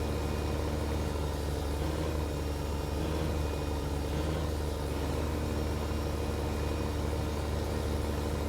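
A non-articulated tractor engine in Farming Simulator 15 drones steadily at a low, even pitch, running continuously with no talk over it.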